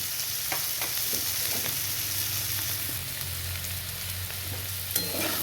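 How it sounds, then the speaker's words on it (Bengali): Continuous sizzling of raw potatoes frying with stems, with scraping and clinking as a spatula stirs the pan, close and steady, no voices. "আপনাদের সঙ্গে কথা বলতে বলতে ভাজাটা ভালো করে নেড়ে চেড়ে নিলাম"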